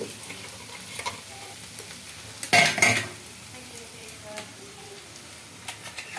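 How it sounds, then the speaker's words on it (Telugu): Ground paste added to lightly browned onions in oil for a stuffed brinjal curry, frying with a soft steady sizzle and a burst of louder stirring and scraping midway, with occasional utensil clinks around it. "ముందుగా పట్టు పెట్టుకున్న పేస్ట్ అయితే వేస్తున్నాను."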